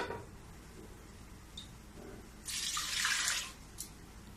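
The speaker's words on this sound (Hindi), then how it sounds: "इसमें मैं 1 गिलास पानी डाल दूंगी।" A glass of water poured into a pressure cooker holding raw mangoes, a brief splashing pour lasting about a second in a quiet kitchen, with faint clinks before it.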